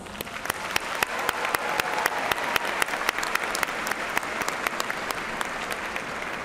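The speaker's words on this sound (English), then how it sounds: "please join me in showing your appreciation for these very important people in your lives with a generous round of applause" A commencement audience applauds the people in the graduates' lives with a steady, even round of clapping from a large hall, with sharp individual claps standing out near the microphone.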